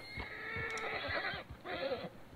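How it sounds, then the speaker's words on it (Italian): Agitated horse at a ranch in Red Dead Redemption 2 giving a long shaky neigh, a brief pause, then a second whinny, close and clear with faint hoof clops underneath. "E il cavallo è un po' agitato"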